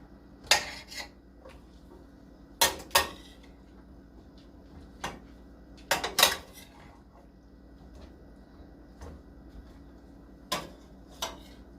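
A utensil stirs organic yellow squash in a cooking pan, producing sparse, separate metallic clinks and scrapes spaced a few seconds apart over a quiet kitchen background.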